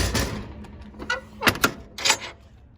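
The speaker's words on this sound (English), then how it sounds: "We've got stock side on the escape door. So let me shut that and show you." The escape door of a 2018 Adam two-horse trailer with a stock side is swung shut, giving several sharp metallic thunks and latch clicks close by with no talk.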